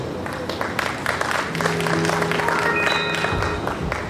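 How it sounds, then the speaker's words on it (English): Applause from an audience at the investiture ceremony of a Nigerian town planners' branch chairman, greeting the outgoing chairman: steady clapping of a crowd with a sustained tonal hum and murmur running underneath partway through. "Please, a very big round of applause for him."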